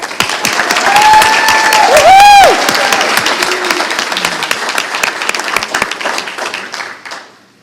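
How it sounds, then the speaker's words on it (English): An audience at a school board meeting applauds for a student award, a steady wash of clapping for about seven seconds that tapers off at the end, with a brief feedback-like tone partway through. "And now let's give a round of applause for Callie to come to the front"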